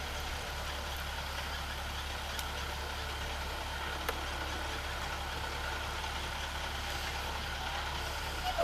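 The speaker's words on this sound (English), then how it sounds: "There's my boy Austin coming in on the school bus." A school bus idles outdoors at a distance, giving a faint, steady low engine hum with a few small clicks and no voices.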